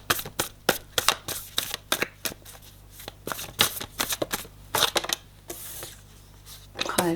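Tarot cards are shuffled by hand in a steady series of crisp riffling bursts, close and clear with no speech.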